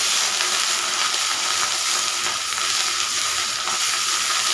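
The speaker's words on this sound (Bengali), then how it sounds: "ফোড়নটা ভাজা হয়ে গেছে এখন দিয়ে দিলাম পেঁয়াজের পেস্ট" Onion paste sizzles loudly in hot oil tempered with dried chilli, a dense, continuous crackle and hiss close up, with no voices.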